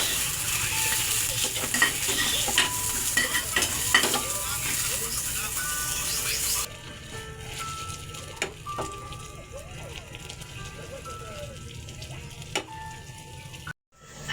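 Onions fry in a pan with a dense sizzle and scraping stirs, loud at first and then quieter after a few seconds. Occasional clinks of a utensil sound over the cooking.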